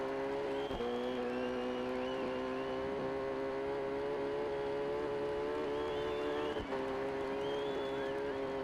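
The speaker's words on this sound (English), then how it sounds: "I'll stay at the low revs, give the bike a little break, even though it doesn't need it because it's fake and it is 3D" Yamaha R6 motorcycle engine in a 3D racing video game, held at low revs: a steady, even buzzing drone with faint whining overtones that keeps going throughout at moderate level, with no talk.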